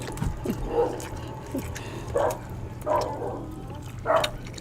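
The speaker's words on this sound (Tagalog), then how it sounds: "Galit na yung aso." An angry dog barks four times in spaced bursts at moderate distance, over a steady low hum and faint background noise.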